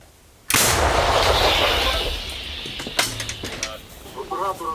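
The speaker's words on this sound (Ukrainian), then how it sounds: "Постріл." A single loud blast from an M101 howitzer booms out, followed by a long rumbling echo and scattered mechanical clatter as it fades.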